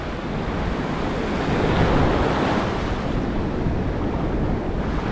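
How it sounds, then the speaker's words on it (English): Ocean surf breaking steadily on a beach in rough conditions, a continuous loud roar of waves washing over sand with wind buffeting the microphone, swelling slightly in the middle and never fading, with no voices. "Wait for the waves to come up to try to"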